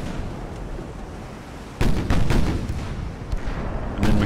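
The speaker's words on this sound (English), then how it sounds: "I think one good shot from my main guns will take him out." Battleship main guns fire in Ultimate Admiral: Dreadnoughts with a sudden heavy boom partway through, followed by rolling artillery blasts and distant impacts over a low, constant rumble.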